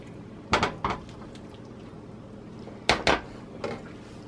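Rice spooned onto a plate, giving a few clinks of utensil on dishware in two short clusters, with quiet kitchen ambience between them.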